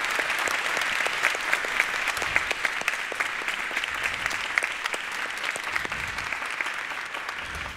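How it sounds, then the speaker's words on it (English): Steady, sustained applause from a church audience after an Easter musical, many hands clapping continuously without a break. "why don't we just give them a great round of applause for all the hard work"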